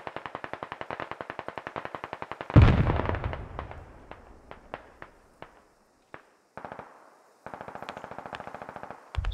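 Gunfire in a large squad-based battle game, Squad, on the Mestia map: rapid rhythmic bursts of rifle and machine-gun fire, one loud heavy explosive blast, then scattered single shots and renewed sustained firing.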